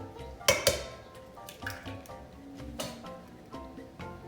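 Eggs cracked and broken in a kitchen while preparing croissant bread pudding, giving two sharp close cracks near the start followed by a few softer wet clinks and taps.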